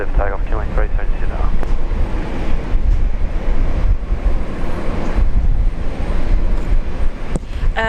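An airliner taking off from runway 01 left at Brisbane Airport gives a loud, steady broadband engine roar that holds throughout, with a brief voice from the radio near the start.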